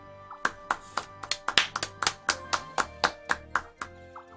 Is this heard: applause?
yes